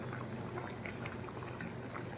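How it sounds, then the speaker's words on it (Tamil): A pot of okra sambar with ground spice paste bubbles at a vigorous boil, a dense, continuous close-up simmer of popping bubbles without speech. "நல்லா கொதிச்சிருக்கு பார்த்திங்களா."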